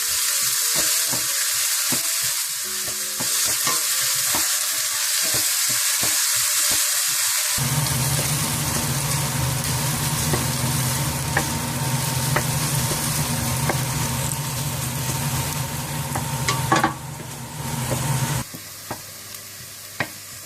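Chopped onions sizzle in hot oil for keema samosa filling after some stirring clatter, a loud continuous frying hiss with occasional scraping of a spoon in the pan.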